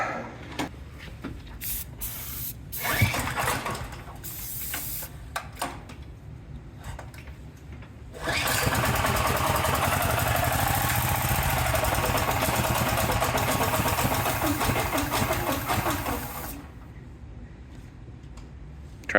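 Junkyard LS 5.3 V8 engine started by pull start: a few clattering pulls and knocks, then a loud continuous running roar for several seconds before it drops back to quieter noise.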